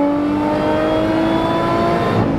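A BMW M3 or Alfa Romeo Giulia QV sports car accelerating hard on a race circuit during a track day, with a loud, steady, rising engine drone that continues without a break.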